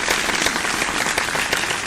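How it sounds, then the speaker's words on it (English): A round of applause sound effect, dense loud clapping with a crackling, rain-like texture held steady for a couple of seconds without pause. "Another round of applause."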